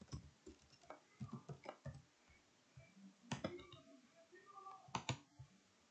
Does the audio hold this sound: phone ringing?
no